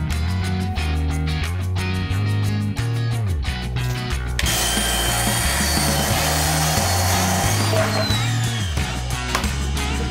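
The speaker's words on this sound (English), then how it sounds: "go outside and cut that piece of plywood" A power saw cuts a piece of plywood outdoors, starting with rhythmic mechanical thumping and then breaking into a loud, harsh, continuous cutting whine that ends with the saw winding down.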